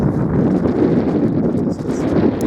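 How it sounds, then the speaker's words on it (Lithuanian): Strong gusty wind buffeting the microphone and flapping a sun shade, a loud, continuous low roar with no voices. "viskas vėjas"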